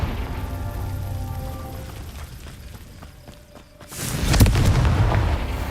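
A Confringo fire spell blasts in Hogwarts Legacy, a deep booming burst that erupts loud near the end after a quieter stretch of rumbling game ambience.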